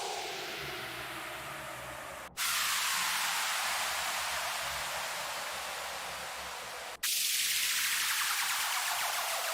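White noise downlifter samples from a sample pack play back to back. Each is a loud, dense hiss that slowly darkens and sinks downward before cutting off abruptly into the next one.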